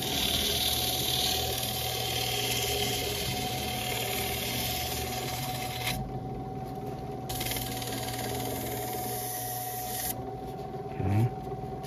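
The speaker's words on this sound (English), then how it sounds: "And the motor is having trouble." A restored 1977 Superlectric 2083 slot car motor runs with a steady close electric hum and buzz, struggling a little, with brief changes in tone partway through.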